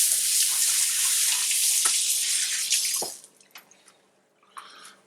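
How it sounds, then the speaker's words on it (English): A kitchen sink tap runs as hands are washed while making a chicken casserole, a steady loud gush of water that cuts off, leaving a few drips and splashes. "Wash my hands."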